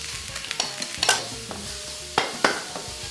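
Pork stir-frying in a wok with preserved vegetable for dan dan noodles, a steady sizzle punctuated by sharp metallic scrapes and clanks of the spatula against the wok at irregular intervals.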